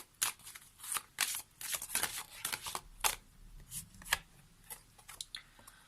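Oracle cards being shuffled by hand, a close series of quick papery riffles and slaps in uneven bursts with short pauses between.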